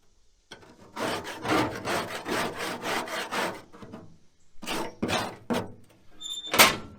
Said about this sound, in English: Let's get to a little bit of scraping and a little bit of fixing up this hog feeder.